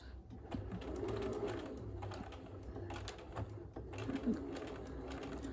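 A sewing machine stitches a fabric face mask quietly in short bursts over low background hum, with faint clicks and thumps from handling the cloth.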